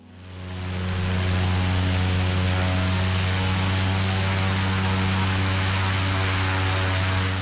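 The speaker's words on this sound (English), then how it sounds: "I had to use takeoff power and the plane was not moving anymore" A propeller plane at full takeoff power, wheels dug into soft ground, drones with a loud, steady buzzing roar that swells in over the first second and then holds constant, close and unbroken.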